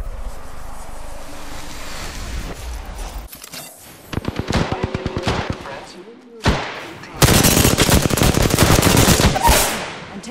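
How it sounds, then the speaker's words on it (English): Bursts of automatic gunfire in an Apex Legends battle, rapid rattling volleys broken by short pauses, loud and close, with a heavy sustained burst near the end. "Enemy fire."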